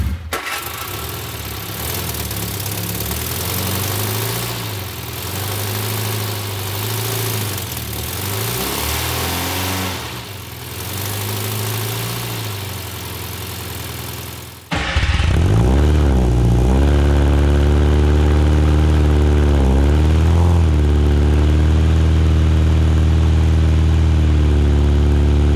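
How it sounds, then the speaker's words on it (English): A supercharged Austin-Healey Sprite engine runs loud and close, rumbling unevenly with a few revs, then settles into a deeper, steady idle after a sudden change. "It is idling on its own now."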